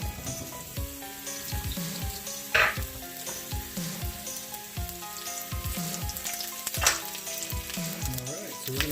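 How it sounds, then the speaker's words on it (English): Button mushrooms sizzle and fry in melted butter in a pan for ribeye brown gravy, a steady loud crackle with occasional stirring scrapes and clinks, no voices. "we're going to go ahead and saute this for a little bit, mix it around with the butter"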